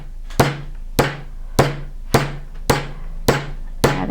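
A hammer strikes a texture stamp into metal held in a vise, seven evenly spaced sharp metallic blows with ringing decay, close and alone.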